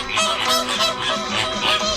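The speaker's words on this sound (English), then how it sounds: "Today's Talking Birds featured feathered friend, the American flamingo." American flamingos honking in a loud, continuous goose-like chorus of overlapping nasal calls, close and without pause.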